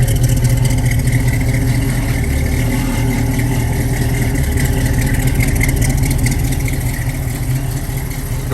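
Steady, close exhaust note from a 1966 Chevrolet Nova idling, a continuous low rumble with even pulsing and no pauses.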